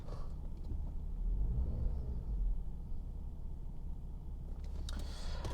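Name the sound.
old Jaguar car engine running while driving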